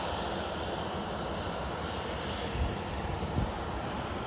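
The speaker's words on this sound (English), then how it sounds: "Now here comes another Ryanair plane about to take off." Ryanair airliner taking off at Lanzarote airport, a steady broad engine roar heard from a distance, constant in loudness with no voices.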